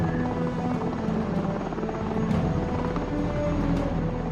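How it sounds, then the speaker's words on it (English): A helicopter taking off from a warship deck, rotor thumping and engine droning nearby, loud and continuous, with rhythmic chopping blades. "The helicopter heads out to scan the minefield."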